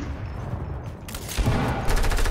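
Gunfire in a Fortnite squads match, a sniper rifle shot cracking out and followed by further bursts of shots and booms over a steady game background, with no voices.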